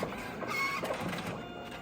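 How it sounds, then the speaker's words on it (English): A photo booth printer on a mirror photo booth runs continuously as it feeds out prints, a steady mechanical whir with faint rolling and whining tones, close and moderately loud. "and then your prints will come out"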